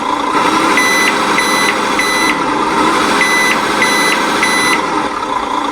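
A radio-controlled Land Rover Defender 90 Camel Trophy scale model with sound and light control reverses, giving a steady series of electronic reversing beeps over a continuous engine-like hum.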